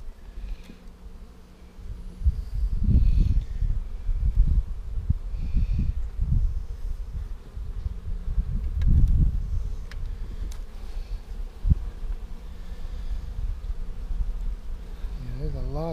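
Honey bees buzz around an opened hive in a bee yard, a steady close hum of many wings that swells and fades in waves for the whole stretch.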